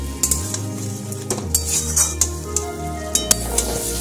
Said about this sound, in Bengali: এবার আমি বেগুনগুলো দিয়ে দিচ্ছি। বেগুনগুলো ভালো করে কষিয়ে নিয়ে